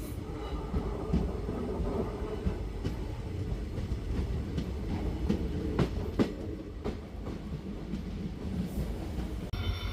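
Steady rumble of railway cars with clanks and metallic knocks scattered throughout as a banker locomotive couples to the rear of the train behind the guard's van, no voices, ending in a sharp jolt.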